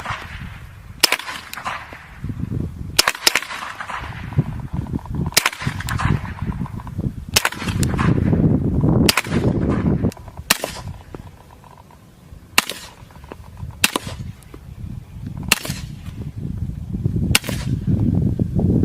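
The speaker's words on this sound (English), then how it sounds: "So that was the M9A3, or the suppressed pistol, both suppressed and unsuppressed with different kinds of ammunition" An M9A3 pistol fires roughly a dozen single rounds, some suppressed and some unsuppressed with different kinds of ammunition. The shots are sharp, close and evenly spaced a second or two apart over a steady low rumble of background noise.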